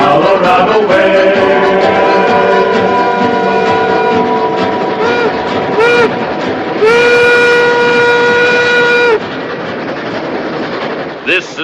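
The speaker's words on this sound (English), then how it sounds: "here's the first train to go out over the high iron" Train of the Tomahawk and Western Railroad in the Colorado Rockies rolls by loudly with a steady rumble, then sounds a long sustained horn blast over the running noise.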